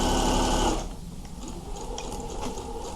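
A home sewing machine runs steadily while stitching the side pockets of a teen dress, loud and continuous at first, then dropping to a quieter, lighter whir with faint mechanical ticks.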